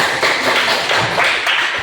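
Students in a classroom clap their hands together in a dense burst of applause lasting a couple of seconds, loud and close, with no voices over it.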